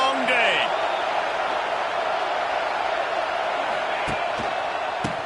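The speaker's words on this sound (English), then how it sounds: "This crowd, full throat, splitting the eardrums and letting them know it's going to be a long day." A packed stadium crowd at a Vanderbilt versus South Carolina college football game roars at full throat, a steady loud wall of noise with whoops and a few sharp cracks rising above it.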